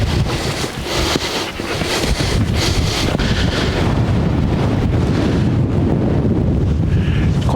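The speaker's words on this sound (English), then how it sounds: "Quite blowy up here today." Strong wind buffets a hilltop on Dartmoor, a constant loud roar with rumbling gusts battering the microphone throughout, and no one speaking.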